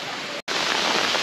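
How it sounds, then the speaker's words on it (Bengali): Heavy rain pours down at a rock garden in Risheehat, Darjeeling, in a dense, loud, constant hiss, broken only by a very brief silent gap. "বেশ জোরে বৃষ্টি হওয়া শুরু হয়েছে"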